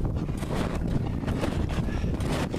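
Strengthening wind buffets the microphone outdoors on a cold day, a loud, steady roar of gusts with no voices heard.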